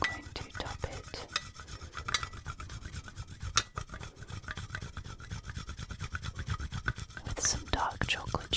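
Dark chocolate being shaved over a creamy drink topping, a steady close dry rasping and scraping that repeats in quick strokes for several seconds, soft and intimate with no talking.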